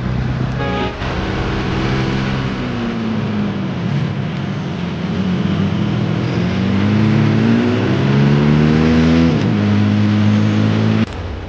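An auto rickshaw engine drones loud and close throughout the ride, its pitch rising and falling as it speeds up and slows, with no talk over it.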